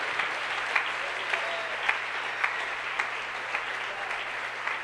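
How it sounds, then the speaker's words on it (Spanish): A church congregation at a Sunday school service claps steadily in a sustained, even wash of applause, fairly distant and reverberant, with a low hum underneath. "Un aplauso para el Señor Jesús en esta hora"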